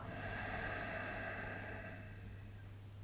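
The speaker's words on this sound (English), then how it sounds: "exhale for the right" Slow, steady exhalation through the right nostril during an alternate-nostril breathing exercise in a Kriya meditation, a soft continuous airy breath close to the microphone that gradually fades, with no talking.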